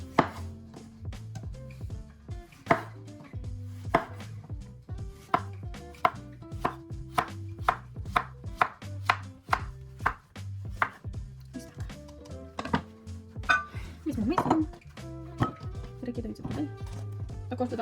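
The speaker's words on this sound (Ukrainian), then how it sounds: "Першим ділом я наріжу кабачок" Knife chopping zucchini on a cutting board in a home kitchen, steady rhythmic thunks repeating quickly and close, with brief pauses between runs of cuts.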